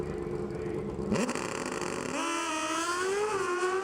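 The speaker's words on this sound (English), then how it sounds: "The four-cylinder Suzuki engine screaming off the starting line." A high-revving four-cylinder Suzuki NHRA drag racing engine screams as it launches off the starting line, its pitch climbing sharply and holding at a loud, piercing whine.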